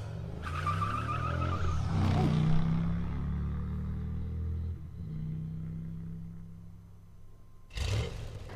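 A motorbike rides through the game Transistor with a low, rumbling engine drone that rises and falls, a whooshing pass partway through and a sharp burst near the end, loud and close with no voices.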